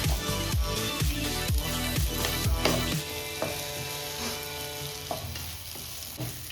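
Potatoes frying in a pan for a Kannada potato palya, with a steady sizzle, sharp utensil scrapes and clatters through the first half, then a calmer continuous fry.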